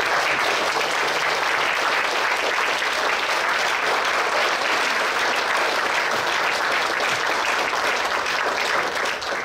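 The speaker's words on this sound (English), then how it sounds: "Big round of applause." Banquet audience clapping together, a loud dense burst of applause that holds steady throughout without a break.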